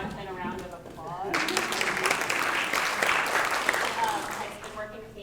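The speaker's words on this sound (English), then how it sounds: "Everybody please give Jonathan a round of applause." Conference audience applause during a morning session, breaking out after a brief voice and continuing as a dense, loud wash of many hands clapping, with speech heard over it near the end.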